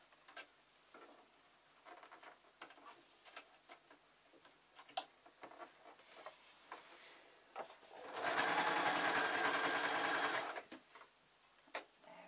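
A domestic sewing machine runs in one steady, fairly loud two-second burst while stitching a dust cover for a show jumping cob saddle. Quiet fabric handling and small taps come before and after the burst.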